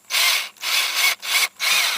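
A drill bit bores a hole for wire through a rudder mount during a Bonafide SS127 kayak rudder install, close and loud, cutting in four steady bursts with brief pauses between them, no talking.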